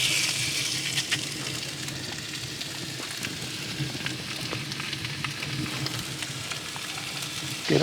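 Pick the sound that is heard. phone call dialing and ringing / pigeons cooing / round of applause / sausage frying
sausage frying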